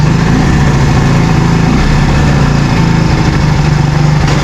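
Close and loud, a small motorcycle engine runs with a steady, buzzing putter, its even low rumble continuing unbroken throughout.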